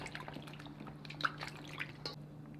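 Peppers are rinsed under running water, heard as quiet, uneven drips and splashes over a low steady hum, with no voices.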